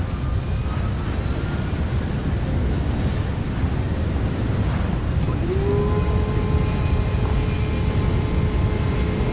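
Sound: wind rushing through opened plane door in video game

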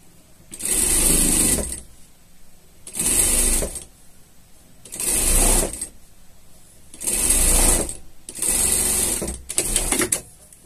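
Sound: sewing machine stitching a unicorn pajama hood

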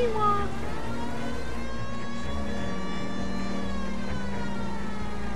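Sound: police car siren in the video game L.A. Noire

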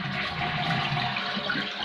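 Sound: toilet flushing after fitting assembly

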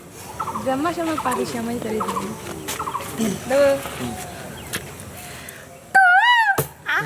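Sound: person imitating a cuckoo's call

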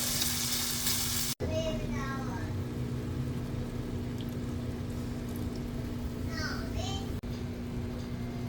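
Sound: marinated beef tapa simmering in a pan

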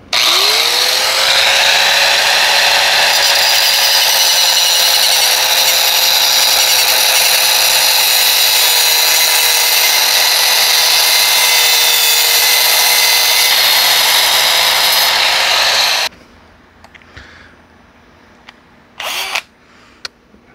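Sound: electric drill spinning to cut off a spark plug

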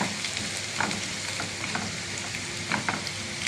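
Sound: garlic frying and sizzling in a pan

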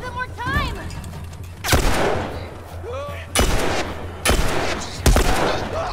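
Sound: gunfire in The Last of Us video game

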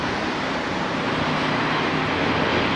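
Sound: airplane flying overhead

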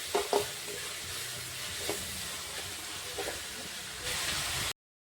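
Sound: frying and stirring a bread snack mixture in a pan

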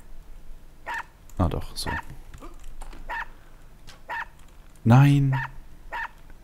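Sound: small dog barking in the video game UnEpic

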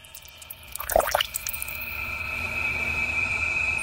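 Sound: AI-generated sound effect of water dripping

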